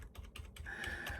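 Several quick clicks of keys pressed on a computer keyboard during a gaming PC build, followed by a sustained electronic tone; close and clear, with no talking.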